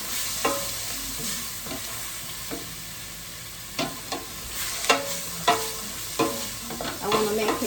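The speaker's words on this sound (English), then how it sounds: "I am gonna use my spoon, my wooden spoon, to stir." A wooden spoon stirs a cooking sauce in a pot with garlic, butter and king prawns, giving irregular scraping knocks over a soft steady sizzle, close and moderately quiet.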